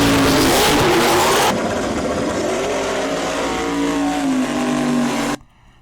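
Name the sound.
G-body donk race car engine accelerating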